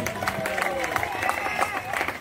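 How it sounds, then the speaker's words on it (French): Guests at a 30th wedding anniversary celebration applaud, a scattered crowd clapping over chatter and a voice, with cheering and music mixed into the background. "Est-ce que l'on peut encore applaudir, s'il vous plaît?"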